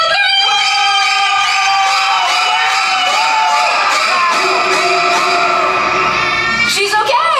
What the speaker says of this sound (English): take a look at the side screens, everybody, and scream on 3, Genesis, okay?